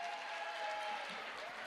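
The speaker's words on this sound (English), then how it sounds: "Let's clap her all the way down." Applause from a film premiere audience, a dense steady wash of clapping filling the whole moment, with a faint tone running beneath it.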